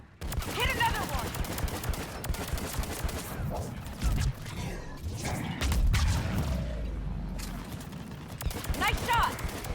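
Gunshots from the video game Mass Effect 3, firing in sharp, spaced bursts amid a cluttered battle mix, with a voice talking over parts of it.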